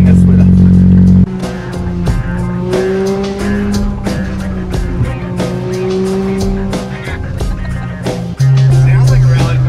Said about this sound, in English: Sounds like a rally car.